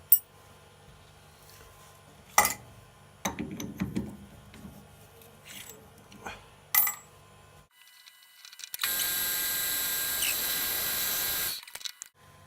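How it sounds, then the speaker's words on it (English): Metal lathe facing the end of a .300 Win Mag cartridge case being made into a bullet whistle, with scattered clinks and mechanical rattles, then a sustained loud bright cutting hiss near the end. "I'm just going to put it back in the lathe and we're going to take the other face off now"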